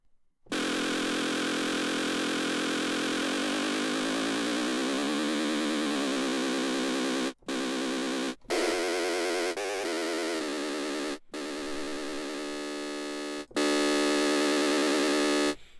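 Looped snare sample processed with vibrato into a dense, buzzing Igorr-style synth tone, loud and continuous with pitch wobble, cut by several brief gaps and restarts as different snare samples are swapped in, no voices.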